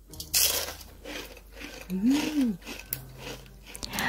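Crisp single bite into a crunchy homemade egg roll (kue semprong), a short snap-crunch up close, set among soft background noise.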